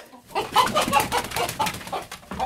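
Close, agitated protective clucking from a bantam rooster, a rapid run of throaty calls rising and falling over about two seconds.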